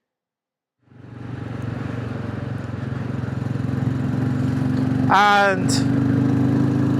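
A Royal Enfield Classic 350 motorcycle on the road across the Flow Country, its engine starting up and settling into a steady, close, thumping drone, with a brief voice and a short squeaky burst partway through.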